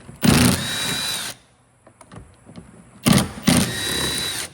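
A power drill backing out 10 mm bolts from car door trim during a rear window motor repair, two whirring bursts of about a second each, close and loud, separated by brief clinks.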